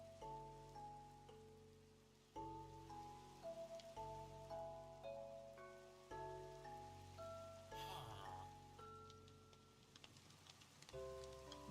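Rain falls in a modded Minecraft world as a steady soft patter beneath sustained tonal game music notes, continuous throughout with no talking.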